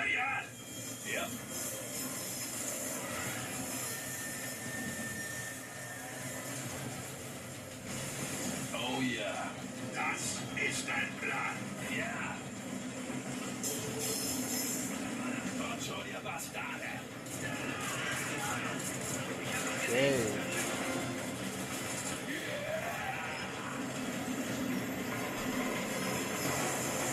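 Steady rumble of a rolling train carriage in Crysis 3, a continuous mid-level hiss and clatter lasting throughout, with people talking over it.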